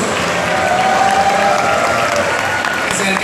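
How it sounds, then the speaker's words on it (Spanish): A Comic Con Ecuador 2018 crowd applauds in a loud, steady wash of clapping with some crowd noise, holding even for about three seconds. "un aplauso para todos ustedes"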